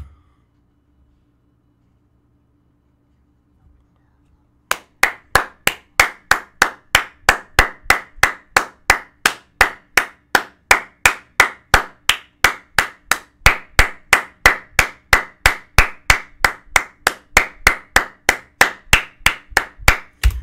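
After a few seconds of silence, loud, steady rhythmic claps begin and continue evenly, one pair of hands clapping close by at a regular beat.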